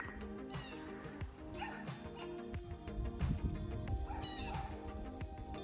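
Dogs at a campground pet loop, with several barks, yips and whimpers scattered across a busy, moderately distant background, no talk over them.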